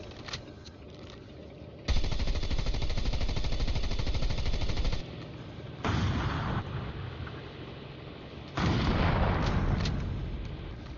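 Rapid gunfire aimed at a tank in the mobile shooter Call of Duty Mobile, loud dense bursts with heavy booms, coming in three separate volleys with quieter gaps between them.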